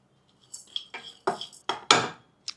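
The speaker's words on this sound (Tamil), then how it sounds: "நான் இந்த பாதாம், பிஸ்தா, முந்திரி எல்லாத்தையுமே ஒன்றா போட்டு வறுத்துடுறேன்" Chopped almonds, pistachios and cashews are roasted together in a pan: a handful of sharp scraping and clinking strokes of a utensil against the pan, spaced irregularly, close and fairly quiet.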